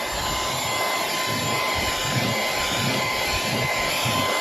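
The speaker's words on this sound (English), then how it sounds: "I really like this vacuum because of the fact that it vacuums in the front like this" A Bebuy cordless handheld 4-in-1 car vacuum running on its high setting, giving a steady, loud whirring motor roar with a thin high whine that holds constant throughout, with no talk over it.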